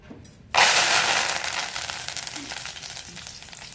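Ingredients hit a hot pan while making a vermicelli snack mixture, bursting into a loud sizzle after a brief quiet start and settling into a steady crackling fry with faint scraping.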